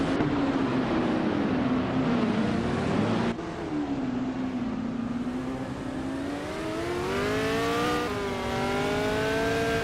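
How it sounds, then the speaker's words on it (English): A 1966 McLaren M10A race car in a racing video game drones steadily at high revs, its engine pitch sliding down, then climbing through rising gear changes, loud and close with no talk. "Zombush 86 is driving a 1966 McLaren M10A"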